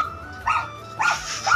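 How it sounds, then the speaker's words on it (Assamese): A dog barks in a small house setting, two or three sharp yips and barks in quick succession, fairly near and loud against a quiet background. "ডগিটো দেখিছেনে কিমান উৎপাত ইয়াৰ"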